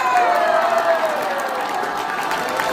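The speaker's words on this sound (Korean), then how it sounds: "다시 한번 목사님께 큰 박수 부탁드리겠습니다." Audience at a Korean YouTube political forum applauding and cheering, a dense steady wash of clapping with crowd voices mixed in, loud and sustained throughout.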